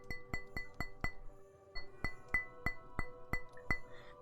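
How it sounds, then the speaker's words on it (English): Sharp taps on window glass, about a dozen crisp knocks in uneven clusters, close and fairly quiet, with no voices. "the sound of poking on glass"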